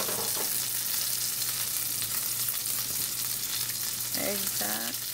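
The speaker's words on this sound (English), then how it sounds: "Put it in the oil." Breaded chicken nuggets sizzle steadily in hot oil, a constant bright crackling hiss with a low hum underneath and a few short clinks near the end.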